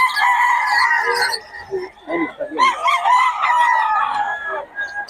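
A rooster stag crows loudly and close, with long drawn-out calls and some clucking between them, heard in a setting where gamefowl are kept.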